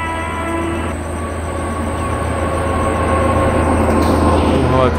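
A WAP-7 electric locomotive hauling the Rajdhani Express rumbles past in an Indian train simulator game, a loud steady rolling drone with tonal motor whine that swells slightly as it nears, no talk over it.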